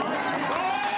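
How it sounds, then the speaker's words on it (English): Crowd at a Red Bull District Ride urban freeride mountain bike event cheering for a German rider, a sustained roar beneath close commentator talk. "Listen to the crowd, just a few decibels higher for their German rider than everybody else"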